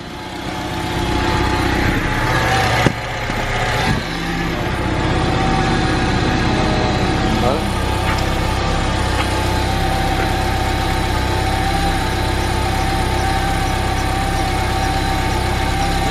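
A K20-swapped car with a stock muffler idles steadily and fairly loudly up close, a smooth continuous hum with a brief dip and surge early on, then an even idle throughout.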